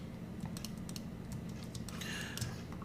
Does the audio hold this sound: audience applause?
no